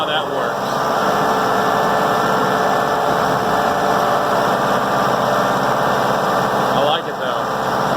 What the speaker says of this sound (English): it sounds like driving a big tractor, but it's deceptive because it's not